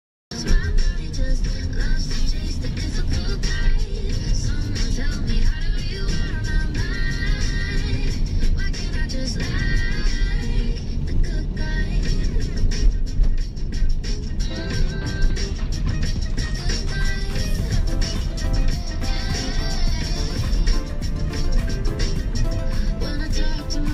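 Steady road traffic with cars passing during a drop-off run, a continuous loud broadband engine and tyre roar with no pauses, heard from close by throughout.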